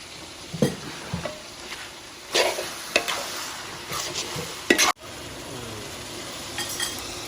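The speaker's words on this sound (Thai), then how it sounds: "คือเราต้องผัดทำแบบแห้งๆเลยนะ ให้แบบไม่ไม่ให้มีน้ำเลยนะ ต้องผัดแบบแห้งๆ" Spicy pork khua kling stir-fried dry in a pan, a low sizzle broken by scattered scrapes and clinks of a utensil against the pan, moderately quiet.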